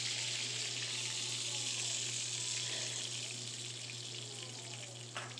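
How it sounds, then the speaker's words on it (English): Hot hamburger grease being drained from a skillet, a steady hissing, sizzling pour that stays fairly even throughout and tapers slightly at the end. "go ahead and drain some of this grease out of this skillet"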